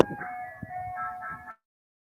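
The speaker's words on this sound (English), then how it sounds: "Like the ice cream truck wants to stop right in front." An ice cream truck plays its tinny chiming jingle nearby for about a second and a half, then the melody stops and silence follows.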